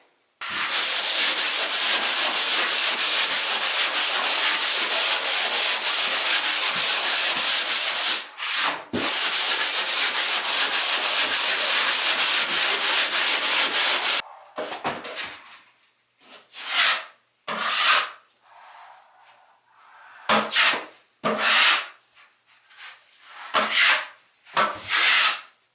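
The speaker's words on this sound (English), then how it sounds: "after sanding all these walls" Walls being sanded by hand before a skim coat: a long stretch of loud, continuous scraping, then a run of shorter, separate rubbing strokes with brief pauses between them.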